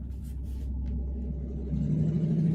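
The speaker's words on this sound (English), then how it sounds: "loud truck." A loud truck rumbles past close by, a heavy low engine drone that swells and holds steady with a slight rise in intensity toward the end, with no talking.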